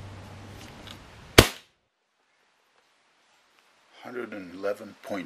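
Crosman 2400KT air pistol with a TKO muzzle brake fired once just under the muzzle: one loud, sharp crack that drops off quickly into silence, followed by someone talking.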